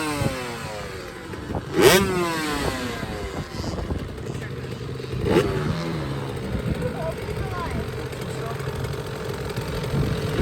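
Motorcycles buzz and rev around a motocross track, engines rising and falling in the mid distance with two sharper passes, while people talk nearby.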